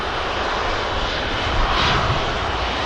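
A Wamos Air A330 slowly taxis onto runway 23 left at Manchester Airport, its engines producing a loud, steady roar that swells slightly partway through.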